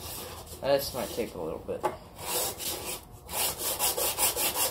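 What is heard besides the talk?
sanding wood edges flat with 120 grit sandpaper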